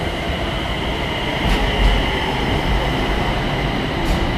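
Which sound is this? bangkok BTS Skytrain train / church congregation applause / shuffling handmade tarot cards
bangkok BTS Skytrain train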